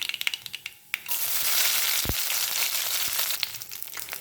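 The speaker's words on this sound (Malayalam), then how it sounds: "ഇനി നമുക്ക് കറിവേപ്പില ഇട്ട് കൊടുക്കാം." Curry leaves hitting hot coconut oil with mustard seeds burst into a loud, sudden sizzle after a few sharp popping crackles, then spit and hiss steadily up close.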